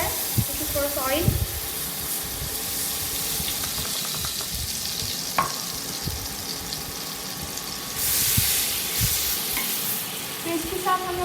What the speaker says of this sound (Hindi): तो हम लोग पहले इस पैन में डालेंगे थोड़ा सा बटर, और ताकि बटर जल ना जाए तो थोड़ा सा ऑयल